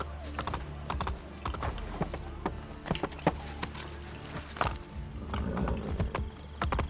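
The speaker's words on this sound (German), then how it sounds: "Mit dem Pferd zu Rosie" Steady clip-clop of horse hooves in Assassin's Creed Brotherhood, rhythmic footfalls over a constant low background hum.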